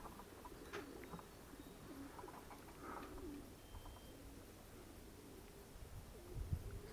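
Faint cooing of racing pigeons in a quiet outdoor setting, soft low calls repeating now and then against light background noise.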